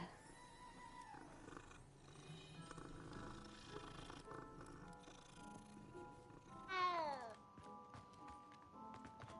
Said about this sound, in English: Pet the cat for good luck.